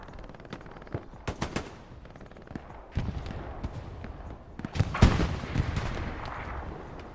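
Artillery and gunfire boom and crack from a Hell Let Loose battle, a match on the Sainte-Marie map. Irregular blasts come at mid distance, with heavier impacts near the end.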